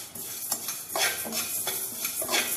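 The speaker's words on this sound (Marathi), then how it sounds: "इथे मी मुगाची डाळ घालत आहे कढईमध्ये आणि उडदाची ही डाळ घालून घेत आहे" Moong and urad dal being added to a kadhai and roasted, with rattling grains, spoon scrapes and clinks against the metal pan over a light sizzle.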